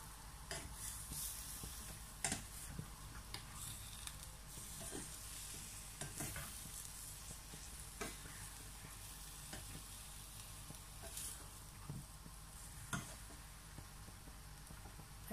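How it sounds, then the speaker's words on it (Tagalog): Vegetables including okra, string beans and squash frying with shrimp paste in a pan, a soft continuous sizzle broken by repeated scraping knocks of a spoon stirring, quiet and close. "Saka po natin ito halu-haluin para mag-combine po lahat yung ating"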